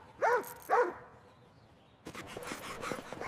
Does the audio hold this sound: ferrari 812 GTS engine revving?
no